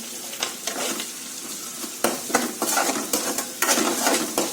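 Onions fry in a pan for a drumstick and tomato curry, sizzling steadily as a spoon scrapes and clinks against the pan in uneven strokes, close and fairly loud with no speech.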